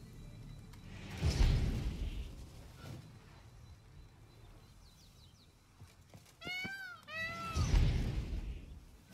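A cat in the video game Witcher 3 gives a couple of short rising meows near the end, following whooshing game sounds and low rumbles earlier, fairly quiet overall.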